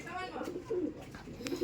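Pet pigeons in a breeder loft give soft, low cooing calls in short repeated phrases, close and moderately quiet, with faint chirps and a little background talk.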